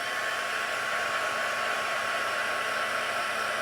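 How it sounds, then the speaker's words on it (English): A Stampin' Up heat tool set on low blows steadily while drying paper for a card-making technique, a constant close whooshing hiss of fan and airflow with no talk. "I'm just going to use my heat tool on low to get this dried off really well"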